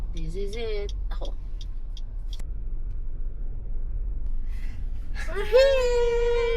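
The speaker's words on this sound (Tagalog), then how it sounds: "sabi ng mga madre, iba daw yung makina ng mga tricycle na umakyat dito" A tricycle engine labouring uphill gives a low, continuous rumble throughout, while voices cry out and speak over it in bursts.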